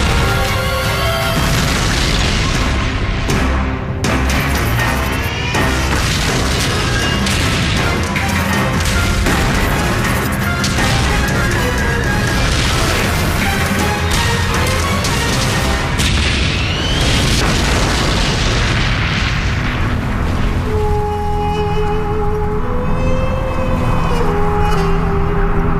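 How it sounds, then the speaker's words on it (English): Desert tank battle from the 1991 Gulf War: loud, continuous booms and crashes of cannon fire and explosions layered over dense rumble, with a wailing tone near the end, filling the whole stretch. "Two tank armies clash on a remote strip of desert."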